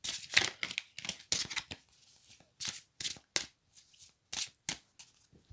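A deck of tarot cards is shuffled and cut by hand, heard as a series of crisp riffling and slapping bursts with short pauses between, close and fairly quiet.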